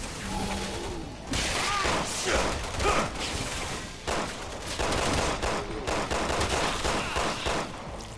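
Handgun fire in Resident Evil 6 comes as dense, sharp bursts of shots over continuous game noise and mechanical clatter, loud and close throughout.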